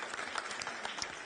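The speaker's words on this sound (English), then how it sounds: "May we have a round of applause for our planning committee and our" Audience applause at an East Hawai'i disability legislative forum, honoring the planning committee and volunteers, rises as a dense, steady patter of many hands clapping at a moderate distance.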